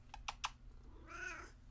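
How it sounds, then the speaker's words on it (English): A pet cat gives a short meow-like cry near the end, after a few sharp clicks like keyboard taps, all at low level over a steady background hum. "if you hear yelling or purring, that's him"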